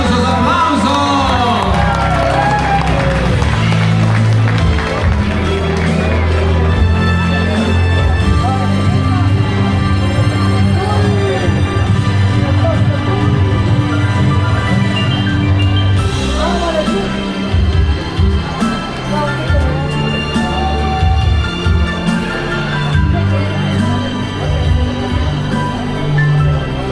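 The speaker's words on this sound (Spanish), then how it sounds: "Venga el aplauso para Alma y José." Guests at a wedding in Little Rock, Arkansas applaud and cheer the godparents, with loud sustained crowd clapping and whoops mixed over steady music and festive hubbub.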